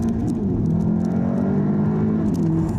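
A 2014 Audi S3 Saloon accelerating hard, its engine note a steady, close, loud drone that climbs slightly with a whirring tone throughout, with no talk over it.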